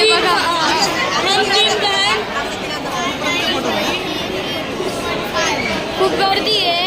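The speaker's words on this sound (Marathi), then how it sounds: "किती गर्दी आहे बघा." Dense crowd chatter at the Trimbakeshwar Jyotirlinga temple during Shravan, a steady loud babble of many voices close around with no pauses.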